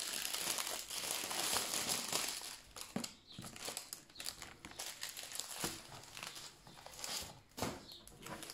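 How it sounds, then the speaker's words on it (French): Plastic sachet packaging from a diamond painting kit crinkles and rustles up close, with repeated irregular handling bursts and sharp crackles over several seconds, and no voices. "Les emballages en sachets qu'il va falloir découper pour mettre dans vos petites boîtes"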